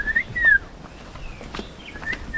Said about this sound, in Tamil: இந்த சவுண்டு உங்களுக்கு கேட்கும்னு நினைக்கிறேன். இந்த குருவி அதெல்லாம் சவுண்டு போடுறது